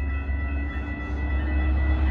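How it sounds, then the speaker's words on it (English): A Metra West Main Line train pulls into Franklin Park station with a steady, loud low rumble and a faint high whine holding throughout, no voices over it. "West Main Line train number 2217 to Big Timber is now arriving."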